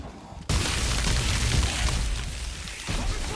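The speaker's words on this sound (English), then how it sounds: "And that's a rocket." Rocket blast in Dead Space 3, a sudden loud explosion after a brief quiet moment, followed by a sustained roaring rumble that slowly eases off.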